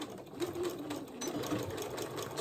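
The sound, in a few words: sewing machine sewing a straight stitch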